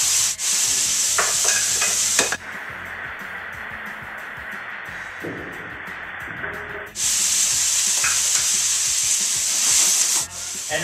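Brandy flambéing in a pan for lobster bisque gives a loud rushing hiss for about two seconds, drops to a quieter crackle with faint clicks, then surges back into a strong steady hiss before fading.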